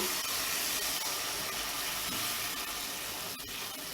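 About half a cup of water poured into a hot pan of sautéed seasoning for Jamaican fricassee chicken, a continuous loud rushing hiss of water and steam lasting the whole moment.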